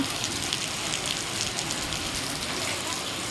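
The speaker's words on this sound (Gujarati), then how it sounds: "વરસાદ અવિરત ચાલુ જ છે" Steady, unrelenting rain falls in Virpur, Gujarat, a soft even hiss with a faint patter throughout.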